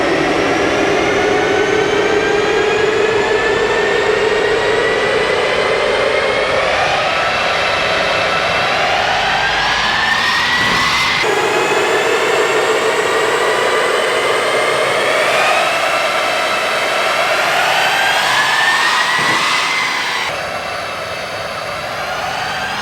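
Tesla Model S Plaid run at full throttle on a dyno toward a top speed of about 163 mph, a loud, rising electric whine with climbing tones and steady roller roar that holds for over twenty seconds, then eases near the end.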